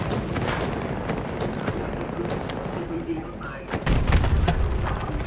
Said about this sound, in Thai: รถถังระเบิดแล้วนี่